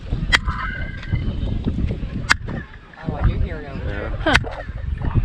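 Three sharp hand claps ring out in the ancient plaza at Chichén Itzá, each answered by a chirping, bird-like echo, with a person talking in between.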